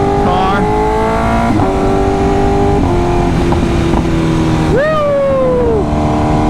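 A 2025 BMW S1000RR sport motorcycle's engine sounds close and loud on a ride, its pitch stepping up through the gears and then surging in a sharp rising rev that falls away again. Steady wind rush runs beneath it.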